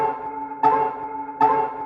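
A chopped and edited Cubeats sample plays back in FL Studio as a sustained tonal loop whose harmonic chord restarts twice with fresh attacks about three-quarters of a second apart, steady and fairly loud, with no voices.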